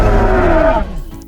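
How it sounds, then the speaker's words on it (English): Jurassic World Triceratops skin in the Dinosaur Simulator video game letting out a loud, sustained roar that swells and then fades with a rumbling low end over about a second. "So this is going to be the roar."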